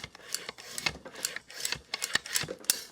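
Cane is gouged with a Roy Double Radius gouger, the blade making repeated rasping, scraping strokes about every half second, close and distinct with no talk.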